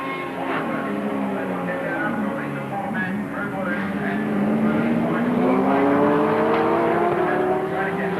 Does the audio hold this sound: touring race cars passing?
yes